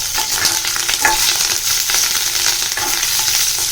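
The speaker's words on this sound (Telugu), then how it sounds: "ఒక 10 పచ్చిమిర్చి వేసుకొని వేయించుకోవాలి" Green chillies frying in a pan, a dense steady sizzle with soft stirring scrapes, close and loud with no talking.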